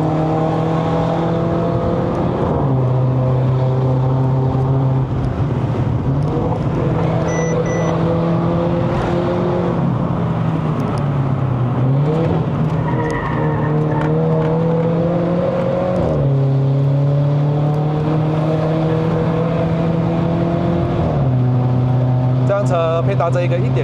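A Mercedes-Benz C180 W205 with its 1.6-litre M270 turbocharged four-cylinder drives along, the steady engine drone stepping in pitch through several gear changes while someone talks over it throughout.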